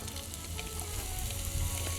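Sliced onion frying in a hot pan, a steady loud sizzle with crackling that fills the whole moment, close and continuous with no voices.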